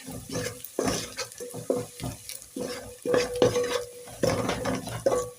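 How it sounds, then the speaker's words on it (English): A spoon stirs a pot of beans on the stove after a Royco cube goes in, scraping and clinking against the metal in repeated close strokes, with a faint sizzle and wet sloshing between them. "We have to stir."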